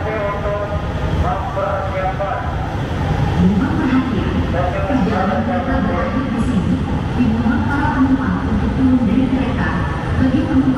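A recorded station announcement sounds at the Harjamukti terminus of the LRT Jabodebek, carried over a steady rumble of the train and the noise of the platform.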